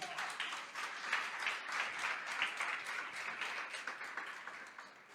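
A church congregation applauding, steady mid-distance clapping from many hands that holds evenly for several seconds and fades slightly at the end.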